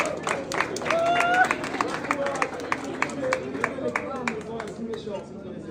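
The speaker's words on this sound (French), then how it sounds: "Et vous applaudirez ça," Audience applause from a French-speaking crowd at a talk on electrification in Africa, a steady patter of many hands clapping with a few whoops and voices over it, fading gradually toward the end.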